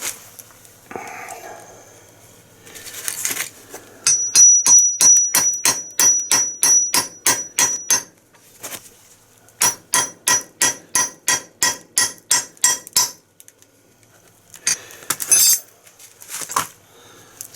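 A hammer taps a rubber brake caliper boot into its socket on a 2014 GMC Sierra / Chevy Silverado front brake, a close, crisp burst of rapid metallic strikes followed by a second quick run and a few scattered knocks.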